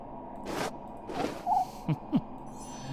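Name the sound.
owl hooting in the video game Christmas Stories: Nutcracker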